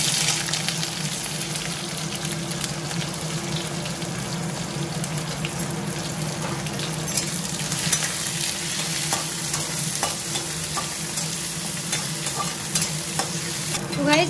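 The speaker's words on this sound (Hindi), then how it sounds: "प्याज को फ्राई करेंगे" Onions frying in a pan with curry leaves and broken dried chili, a steady, close sizzle with faint stirring scrapes running continuously with no talk.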